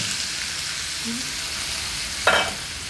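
Boiled raw banana pieces and curry leaves fry in a pan for a Tamil Nadu style curry, giving a continuous close sizzle with one sharp scrape of stirring near the end.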